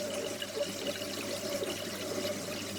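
RO water trickles gently through a float valve into an aquarium, a steady, soft, continuous watery hiss and patter heard close up with no talk.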